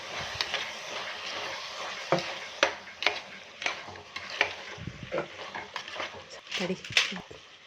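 A spoon stirs a rice bath mix with biryani masala and curd in a pan, scraping and clinking in irregular strokes over a faint sizzle, close and moderately quiet.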